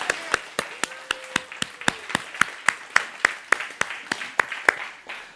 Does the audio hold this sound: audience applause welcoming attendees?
yes